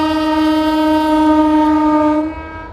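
A fast freight train passes on the parallel line outside Rajpura Junction, sounding a loud, sustained, steady horn over a rail rumble that fades away near the end.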